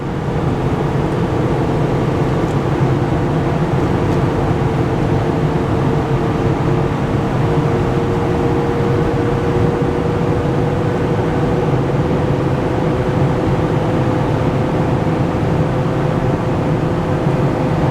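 A Ford F450 Power Stroke diesel pickup pulls a trailer uphill at wide open throttle around 50 mph, its engine a loud, steady drone with road and wind roar that holds constant for the whole stretch, no voices.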